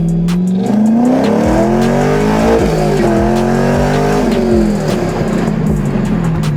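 A loud, throaty modified exhaust on a C5 Corvette Z06 revving hard, the engine pitch rising and falling through several strong pulls, close and continuous.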